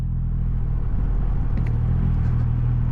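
A Triumph-style Rocket R motorcycle engine rumbles steadily while riding through a small village in the Beaujolais, a deep continuous low drone heard up close.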